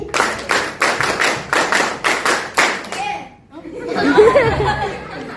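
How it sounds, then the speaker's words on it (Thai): A school audience of students and teachers claps together in a rhythmic pattern of sharp, loud beats in short bursts, then breaks off into chatter and laughter. "ปรบมือแบบเยาวชนสามสิบ"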